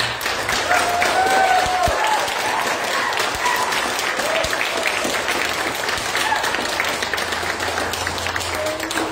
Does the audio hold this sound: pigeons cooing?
no